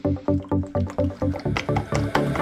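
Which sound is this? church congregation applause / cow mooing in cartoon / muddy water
muddy water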